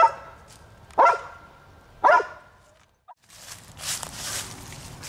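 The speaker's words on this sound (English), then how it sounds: "the barking of Razor" A dog on a fall walk gives two sharp, loud barks about a second apart, followed by rustling and footsteps nearby.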